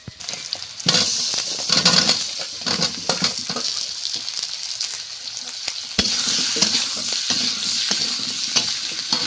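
Potatoes fry noisily in ginger-garlic paste with five-spice seeds, a loud, steady sizzle broken by repeated scraping stirs and occasional clinks of a spoon against the pan, with no voices.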